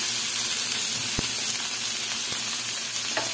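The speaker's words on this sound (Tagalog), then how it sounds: "Igisa lang natin siya." Shrimp pancit sautés in a hot pan with a loud, dense, steady sizzle and a couple of faint stirring knocks.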